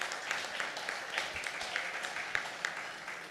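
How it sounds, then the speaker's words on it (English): Audience applause at a conference tech talk for a Capgemini Engineering presentation, a steady dense patter of many hands clapping at moderate distance, sustained evenly throughout. "Applause for Capgemini Engineering."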